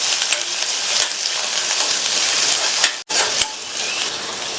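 Small onions, green chillies and curry leaves sauté in hot oil with a loud, dense, continuous hiss that cuts out for a split second before resuming, and no voices over it.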